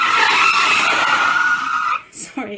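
A rubber hot water bottle dragged over a smooth kitchen counter gives a loud, close, sustained tire-screech squeal for about two seconds as a stand-in for a car skidding, then cuts off into a few brief fainter squeaks.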